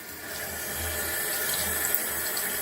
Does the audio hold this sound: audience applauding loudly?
no